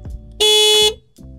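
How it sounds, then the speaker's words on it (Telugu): A Bajaj Chetak 3501 electric scooter sounds one loud, close horn blast of about half a second, a bright steady electronic tone that rises sharply out of quiet surroundings. "చాలా లౌడ్ హార్న్ ఉంది."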